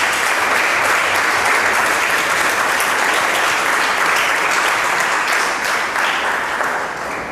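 A classroom of school students claps steadily for a classmate after a correct answer in a maths lesson, dense and sustained applause at close range with no talk, tapering slightly at the end.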